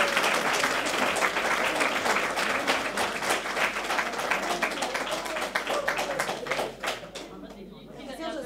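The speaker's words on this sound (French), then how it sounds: "je pense une bonne main d'applaudissements pour Dave Marchand" Audience applauding Dave Marchand at a community event, dense clapping from many hands filling the room for several seconds, with chatter and voices mixed in before the clapping thins out near the end.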